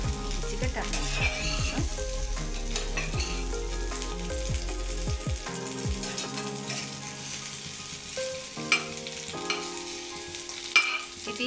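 Stuffed chillies fry in a pan on a stove over a medium flame, giving a steady close sizzle and crackle throughout, with occasional stirring clatters.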